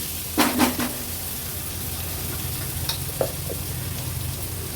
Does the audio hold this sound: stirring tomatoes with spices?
yes